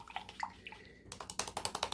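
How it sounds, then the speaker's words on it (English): A paintbrush knocked against the side of a cup of water and swished to rinse it during acrylic painting, a run of quick, close, regular clinking taps with watery splashes, loudest and steadiest toward the end. "So I'm going to clean off this brush in my cup of water like I was telling you."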